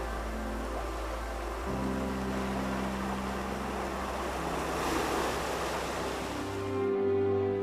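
Ocean surf rolling onto the nearly two-mile beach at Hanalei Bay, Kauai, a steady broad wash of breaking waves with some wind rumble, continuous and fairly close, no voices.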